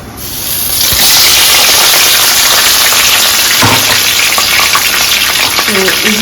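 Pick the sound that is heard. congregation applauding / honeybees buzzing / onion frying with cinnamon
onion frying with cinnamon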